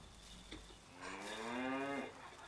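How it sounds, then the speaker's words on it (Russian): A cow lows once in the farming game Life is Feudal, a single drawn-out moo rising then falling over about a second, heard clearly against a quiet ambient background with no talk. "Так, вот корова."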